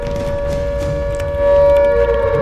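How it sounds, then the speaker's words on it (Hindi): An air raid siren under test at the old police headquarters in Delhi, a loud steady wailing tone that holds and swells slightly, with no talking. "दिल्ली से पुराना पुलिस मुख्यालय पर एयर रेड सायरन की टेस्टिंग।"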